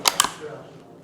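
Two sharp metallic clicks in quick succession from the safety catch of a Rossi Rio Bravo .22LR lever-action rifle, close and crisp, followed by a quiet pause.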